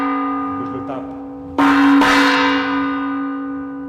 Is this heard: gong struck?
yes